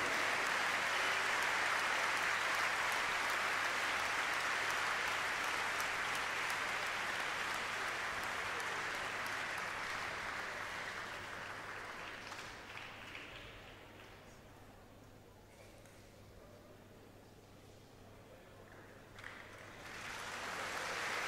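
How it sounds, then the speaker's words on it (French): A crowd applauds loudly and steadily at a Cesta Punta tournament final, then the clapping gradually thins and fades to a quieter murmur, with a brief swell near the end. "On peut les applaudir une nouvelle fois"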